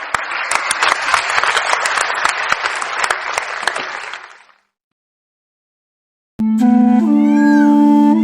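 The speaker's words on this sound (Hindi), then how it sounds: "पूरा मैदान तालियों से गूंज उठा" Loud crowd applause fills an open ground at a Republic Day constitution event in an animated Hindi story, a dense wash of clapping that swells and then fades out, followed by silence and then sustained musical tones.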